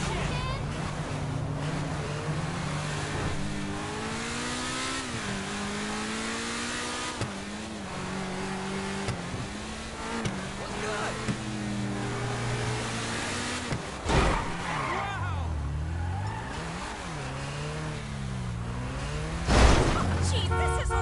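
Car engine in GTA 5, revving and shifting pitch as the vehicle drives and accelerates, with rising and falling engine tones, a couple of sharp impacts, and voices talking over it.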